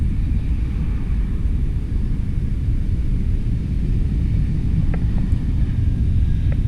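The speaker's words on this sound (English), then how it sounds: "Lufthansa just landed." A Lufthansa airliner landing makes a continuous low, rumbling engine roar that stays close and steady throughout, with a few faint short clicks near the end.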